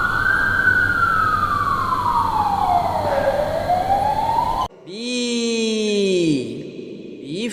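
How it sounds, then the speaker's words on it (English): An ambulance siren wails loudly in one long falling-then-rising sweep, then cuts off abruptly and is followed by a short, different tonal sound. "A for ambulance."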